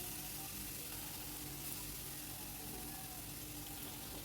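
Spice masala sizzles and fries steadily in a pan after potatoes are added, a dense continuous hiss that stays even and close the whole time.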